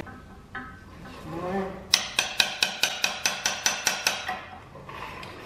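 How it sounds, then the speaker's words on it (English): A hammer drives half of a rear main seal into an SR20DET engine. After some brief clatter come about a dozen sharp metallic blows in a quick, even rhythm, close and loud. "I know for sure I'm gonna have to hammer that other half in."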